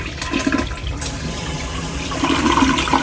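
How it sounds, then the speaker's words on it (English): A flapper-valve toilet with a trip lever flushes with its lid closed, giving a steady rushing gurgle of water that swells louder toward the end. "Let's just double check that we can still flush it with the lid on"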